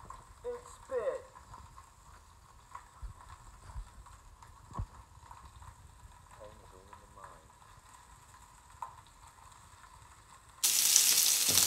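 Meat frying in hot fat: a faint, steady sizzle with occasional spits and clinks from the pan, quiet throughout, then a sudden loud hiss near the end, with someone speaking at times.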